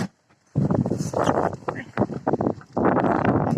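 Strong wind over an open green field in the countryside buffets the microphone in loud, rumbling gusts, with a brief lull at the start and more gusts after a short pause.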